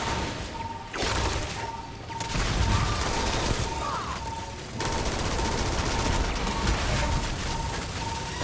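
Sustained gunfire in the Starfield video game, with loud rapid bursts running almost continuously and brief pauses between volleys, alongside a steady tone and clanks.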